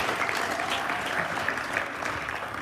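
An audience claps steadily for a team leader after an address, a dense, even round of applause with no voices over it.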